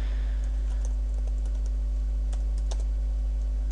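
Keyboard typing while building a Wix.com website, a run of light irregular key clicks close up over a steady low electrical hum, with no voices.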